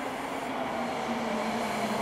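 A Tsukuba Express TX2000 rapid train pulls into a station platform with a steady, fairly loud rolling rumble and an even electric hum throughout.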